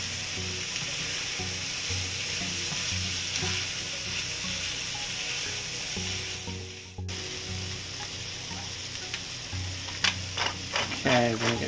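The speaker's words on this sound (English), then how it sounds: "A little more margarine in the pan. And we're going to add our potatoes in." Potatoes frying in margarine in a pan for corned beef hash, with a steady close sizzle and occasional stirring clatter; a voice speaks briefly near the end.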